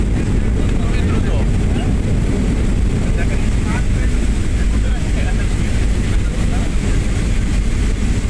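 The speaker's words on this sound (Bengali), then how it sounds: "জমিন স্পর্শ করছে বিমান। দ্রুত গতিতে ছুটে চলছে" A passenger airliner touching down at Dhaka airport and rolling fast along the runway, heard from inside the cabin as a loud, steady low roar and rumble with no pauses.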